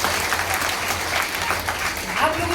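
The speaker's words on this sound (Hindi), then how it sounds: "आप लोगों ने ताली जल्दी बजा दिया।" An audience at a district award ceremony in Jehanabad claps in steady, moderately loud applause that runs throughout, with speech faintly mixed in.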